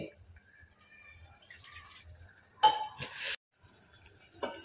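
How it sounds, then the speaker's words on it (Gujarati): About half a cup of water is poured into a pot of palak cooking on a gas stove, a brief splashing gush amid quiet kitchen clinks of utensils, with a short clatter just after. "અડધો કપ જેટલું મેં બીજું પાણી નાખ્યું છે"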